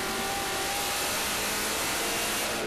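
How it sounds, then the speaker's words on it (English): An American V8 race car with over 400 horsepower climbs uphill at low revs at Laguna Seca during a 2002 World Challenge GT race, its engine a loud, steady, broadband roar throughout with no talk. "I think this car has over 400 horsepower in standard trim. Very strong machine. Low revs, lots of torque up the hill here. American V8."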